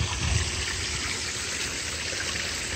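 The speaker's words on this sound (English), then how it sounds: "I got the hose out, just adding a little bit of water to the pond system." A garden hose pours water into a backyard pond, a steady, fairly loud rushing trickle and splash that continues unchanged throughout with no voices.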